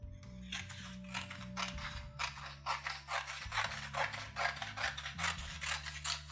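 Scissors cutting a strip of paper at close range, a series of quick rhythmic snips and crisp slicing strokes with faint mechanical clicks of the blades, quiet and without talking.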